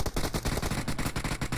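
Rapid bursts of UMP submachine gun fire in a competitive first-person shooter match, a fast, even rattle of sharp shots repeating steadily, fairly quiet in the mix and without talk over it.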